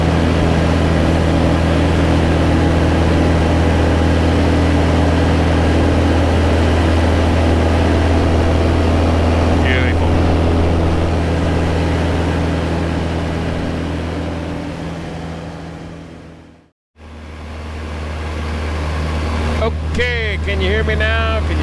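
Aviat A-1 Husky light aircraft engine held at 2,500 RPM in flight, a loud steady droning hum that fills the cabin, briefly dropping out near the end before returning, with voices talking over it.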